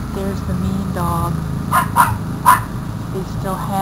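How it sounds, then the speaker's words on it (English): A dog barks a few sharp times beside a backyard pool, three short bursts close to the microphone over a steady background of people talking. "There's the mean dog."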